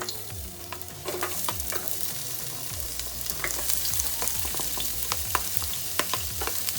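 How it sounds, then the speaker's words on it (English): Onion sizzles and sears in olive oil in a pot, a soft crackling fry with scattered pops and stirring clatter, faint and close, with no one talking. "first we're gonna go ahead and put some onion in here."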